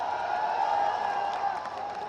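Sustained crowd applause fills a ceremony hall at a Chittorgarh Jauhar tribute event, a steady dense clapping wash with no pauses across the short stretch.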